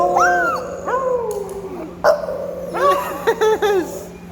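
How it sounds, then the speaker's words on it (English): A four-year-old American bully dog howls close by in a series of short, wavering, rising-and-falling howls and yips, with brief pauses between bursts and no talking. "Did you do a howl?"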